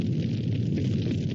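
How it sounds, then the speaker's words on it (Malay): A short, dense burst of roaring, rumbling noise from a cartoon temple explosion fills the clip, like a blast heard alone without any speech. "Kuil tu dah meletup."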